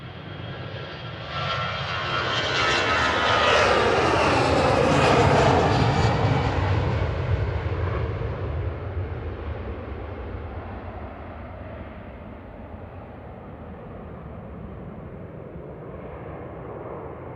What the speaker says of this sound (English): EasyJet A320 Classic heading to Milan here